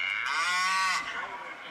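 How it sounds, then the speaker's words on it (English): A cow moo sound effect plays during a high school football broadcast: one long, sustained, clearly harmonic moo that holds for about a second before tailing off into quieter background noise. "despite the cow sound there. That's an advertisement."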